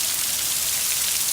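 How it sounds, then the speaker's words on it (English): Pouring rain makes a dense, steady hiss of drops, loud and continuous with no break. "it is pouring rain right now"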